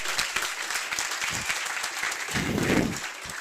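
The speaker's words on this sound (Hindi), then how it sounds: "एक बार जोरदार तालियां" A seminar audience in Haryana, India, clapping continuously, a dense patter of many hands that swells slightly toward the end.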